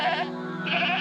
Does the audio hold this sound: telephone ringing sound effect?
no